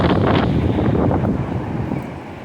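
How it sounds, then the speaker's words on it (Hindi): Strong wind roars and buffets continuously during a dust storm in Karbala, a loud low rumble with no voices. "इतनी मिट्टी, इतनी तेज़ हवा है"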